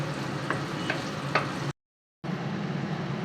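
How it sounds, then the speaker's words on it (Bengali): Onion frying lightly in a pan for a chicken curry, a steady broadband sizzle with a few faint stirring clicks, interrupted by a half-second dropout before the sizzle resumes. "পেঁয়াজটা হালকা ভেজে নেব।"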